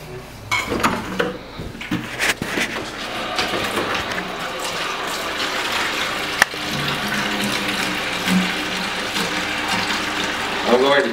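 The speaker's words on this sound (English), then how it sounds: "I'm going to cheat and use the farmer's bucket and fill it with hot water." Hot water runs from a tap into a farmer's bucket on a dairy farm, a loud steady gushing with clanks of the bucket.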